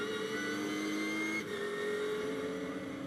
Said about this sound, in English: Mangian down through the gears, comes out of Agostini now, back on the power